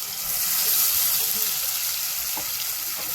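Ground wet-coconut masala paste frying in oil for a cowpea curry, a steady loud sizzle running throughout with faint stirring scrapes near the end.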